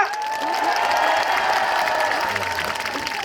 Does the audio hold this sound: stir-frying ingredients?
no